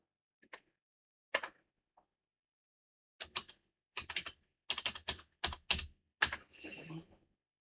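Short bursts of keystrokes tap on a computer keyboard as a Linux command is typed in a quiet room, a few isolated clicks first and then a quicker run of keys near the end.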